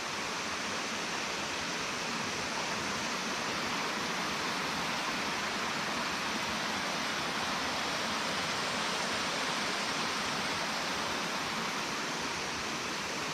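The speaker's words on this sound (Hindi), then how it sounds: "ये देखो, ये सारे पानी आपको पहाड़ों से आता हुआ।" Water from the mountains rushes steadily through a stream beside a village field in Uttarakhand, a dense, unbroken hiss and burble that stays even and fairly close throughout.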